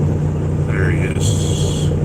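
A semi truck with a flat top sleeper and short straight stacks rumbles past on Van Dyke Avenue in Detroit, its low engine drone loud and close, mixed with traffic noise and someone talking.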